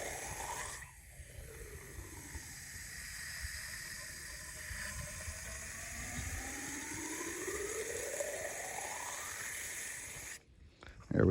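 Water rushes and hisses as it fills a drilled pipe used for deep garden watering, a steady close flow whose gurgling tone sweeps down and back up over several seconds before cutting off near the end.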